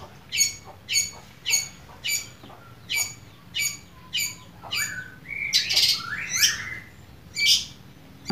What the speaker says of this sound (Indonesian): burung cendet itu pasti berbunyi ya